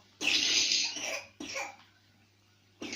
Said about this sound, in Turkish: çok kötü öksürüyorsun sen